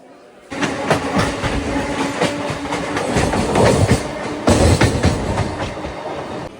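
A MEMU passenger train, number 12767, runs on the rails with a loud, close rumble and a rhythmic clickety-clack of wheels over rail joints. The sound swells sharply after a quiet start and stays heavy to the end.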